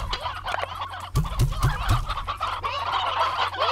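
Chickens in the Slime Rancher video game, a quick series of three or four low clucking bursts over a steady game soundscape with music, close and moderately loud.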